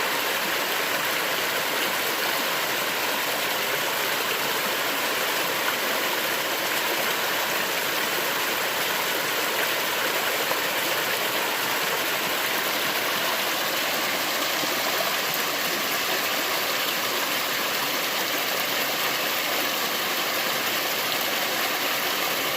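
Stream water rushes steadily and evenly while a mineral sample from mineralized veins is panned, a continuous broadband wash with no distinct splashes standing out.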